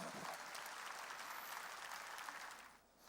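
Church congregation applauding during a sermon, a steady wash of clapping from many hands that fades slightly near the end.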